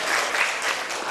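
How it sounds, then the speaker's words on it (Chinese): A brief burst of dense clapping from a forum audience honoring two teachers at an art museum panel, loud and close, fading slightly as it ends. "我们最后给呃这两位老师掌声鼓励一下"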